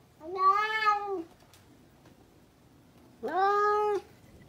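Two clear, drawn-out cat meows close by, separated by a quiet pause of about two seconds.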